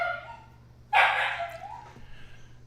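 A puppy gives one sharp, loud bark followed by a trailing whine, indoors over a low steady hum.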